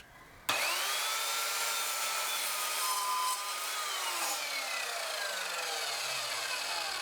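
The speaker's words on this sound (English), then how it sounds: "I'm going to show the saw cut in different materials in real time" Evolution Fury 3-S sliding mitre saw spins up with a sharp start and cuts through a 100 mm wide, 50 mm thick walnut board, a steady loud whine running for several seconds as the blade works through the wood.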